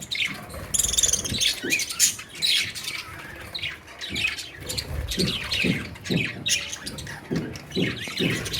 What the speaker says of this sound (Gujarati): તમને બતાવો બધી પોપટ